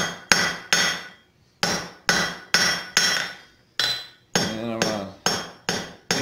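Hammer blows ring on copper being forged in a steady series of about a dozen loud, bright strikes, each decaying quickly, with short pauses between.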